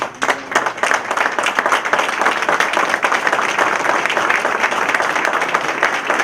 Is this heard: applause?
yes